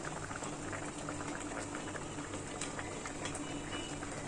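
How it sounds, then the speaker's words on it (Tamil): Mango fish curry simmering in a pot, a constant close bubbling and hissing boil with fine popping, steady and unbroken with no talk. "இப்போ கொதிச்சுட்டே இருப்பாருங்க"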